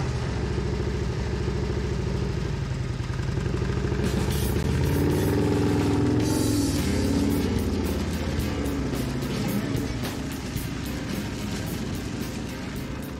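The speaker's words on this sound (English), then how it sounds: "It's got this throaty engine that just goes." A custom motorcycle with a meteorite-cast gas tank cover idles with a throaty rumble, then revs up and pulls away, the loud engine filling the scene before easing slightly.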